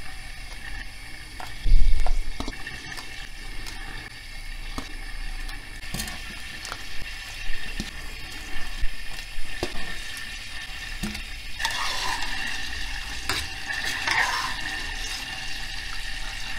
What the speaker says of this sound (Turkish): Şimdi mantıları yavaş yavaş kaynayan suya ilave edeceğim.